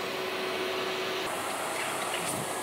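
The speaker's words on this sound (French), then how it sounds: "faut quand même appuyer assez fort pour bien aspirer un maximum d'eau." A carpet shampooer extractor draws water out of textile with a steady, close, rushing suction hiss that brightens and grows harsher midway as more air is pulled through; no voices.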